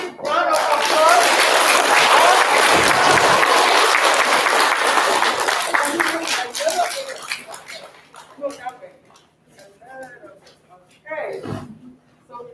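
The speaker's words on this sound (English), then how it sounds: "can we give them another big round of applause?" Audience applause at a fourth-grade event, dense clapping for the first several seconds that thins and fades, followed by scattered voices and talk near the end.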